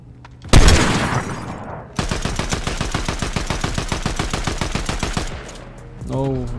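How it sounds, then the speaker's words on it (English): Fortnite gunfire in a match: one loud sharp shot, then a fast even burst of rapid automatic fire for about three seconds, close and dominant, with a brief tonal game sound at the end. "it looks cooler when I snipe somebody with this one"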